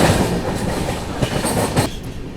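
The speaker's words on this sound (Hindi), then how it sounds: "पूरी ट्रेन दिख रही है भाई, पूरी ट्रेन" A passing train on an Indian railway rumbles steadily and loudly close by, wagons clattering with rhythmic clickety-clack wheel beats and occasional brief squeals throughout.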